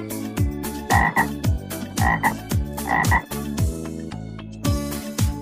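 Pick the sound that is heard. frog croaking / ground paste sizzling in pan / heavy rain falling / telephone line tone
frog croaking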